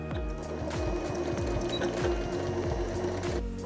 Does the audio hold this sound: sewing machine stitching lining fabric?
yes